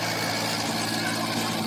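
An Eicher 551 tractor engine drives a pug mill at a brick kiln, giving a steady, loud, continuous diesel drone with a low throb that runs unbroken throughout, with no talk over it.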